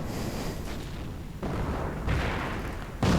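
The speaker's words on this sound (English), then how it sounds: "Another registered artillery barrage doing a bit of damage to these riflemen" An artillery barrage in a real-time strategy war game strikes riflemen, heard as a series of deep booming blasts roughly every second, loud and close, with no voices.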